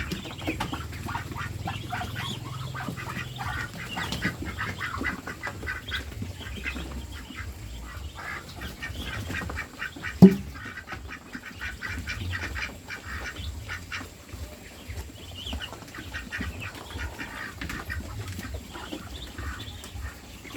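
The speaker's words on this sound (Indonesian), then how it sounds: "Kita lihat entoknya makan dengan lahapnya." Muscovy ducks feeding make soft, scattered quacks and low murmuring calls, fairly faint against a steady background, with one brief sharper sound midway.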